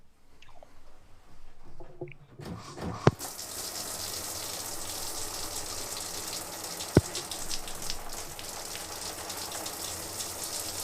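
Running water gushes steadily after a quiet opening with a few small clicks, a continuous rushing stream with two sharp knocks, moderately loud and without talk.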